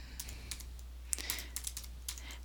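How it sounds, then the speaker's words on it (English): Someone types on a computer keyboard: quiet, irregular clicks and taps in short bursts, close by, with a low steady hum underneath. "So I'm just going to type it in"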